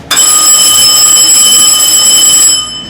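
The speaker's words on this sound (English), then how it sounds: "if a breaker popped open and the power went off, this alarm would sound." Breaker alarm in a railroad switch tower ringing loudly and continuously as a bright, steady electric bell-like tone for about two and a half seconds, then cutting off and fading.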